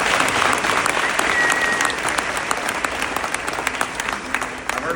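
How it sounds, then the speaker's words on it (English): An audience at the Knox County Republican Reagan Dinner applauds steadily, a dense wash of clapping from a large crowd indoors, sustained for several seconds before tapering slightly. "You can applaud"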